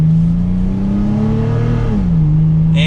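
A 2021 Toyota 4Runner TRD Pro SUV accelerates under light throttle. The steady engine drone climbs in pitch, dips briefly at a gear change, then hums on evenly, close and continuous with no talking.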